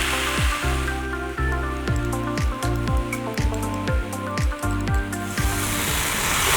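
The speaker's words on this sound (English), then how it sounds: "Now you just want to keep tossing these noodles until we get a beautiful even color and that sauce thickens up a little." Shanghai noodles tossed with stir fry sauce in a hot pan, repeated soft wet squishing and slapping strokes in a loose rhythm over a continuous sizzle, close and fairly loud.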